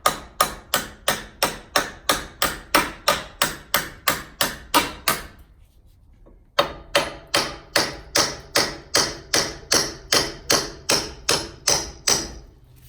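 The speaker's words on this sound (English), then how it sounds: "try hammering these out." Rapid, evenly spaced metal hammer blows ring out driving bolts from a Volvo 850 T-5R rear subframe, a short pause after about five seconds, then the steady pounding resumes.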